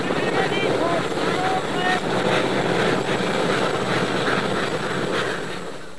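A rescue helicopter in the Scottish mountains gives off a steady, loud rotor and engine drone throughout, with talking over it.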